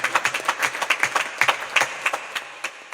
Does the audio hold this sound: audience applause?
yes